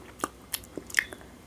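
Biting into a blueberry strawberry ice cream lollipop, with a few quiet, close crunchy bites and small chewing clicks spread across a short moment.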